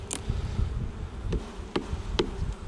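Honeybees buzzing steadily at an open hive during an inspection, a continuous low drone close by with a few sharp knocks or taps on the hive wood.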